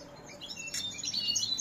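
A pet songbird gives a few short, bright chirps close by, thin and brief against a quiet background.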